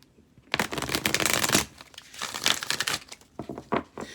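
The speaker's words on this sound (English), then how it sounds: "I'm going to go ahead and pull a couple of cards here." Oracle cards shuffled and riffled from a deck, a dense papery flutter in two longer bursts followed by a few short, crisp snaps as cards are pulled, close and clear with no talking.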